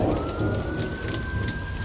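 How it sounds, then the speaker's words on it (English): Heavy rain pours down in a thunderstorm, a dense hiss of drops hitting surfaces with a low thunder rumble underneath, loud and close, with a thin steady tone running through and no speech. "And then King Lear had his storm."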